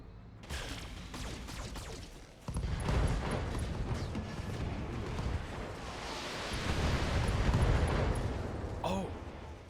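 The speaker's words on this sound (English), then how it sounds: "Firing on target." Mech weapons fire and explosions in the Battletech game, with a dense roar of blasts and impacts building through sustained rumbling bursts, loud and continuous.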